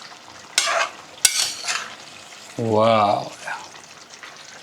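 Vegetable curry with kasuri methi frying in a pan while being stirred: close sizzling with a few sharp scrapes of a spoon against the pan, and a short exclaimed voice partway through.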